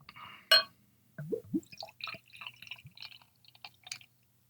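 Founders Double Trouble imperial IPA poured from the bottle into a glass: a sharp clink at the start, then a run of gurgling, trickling glugs and drips with short pauses, close and fairly quiet, no talk.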